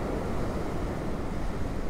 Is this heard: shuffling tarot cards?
no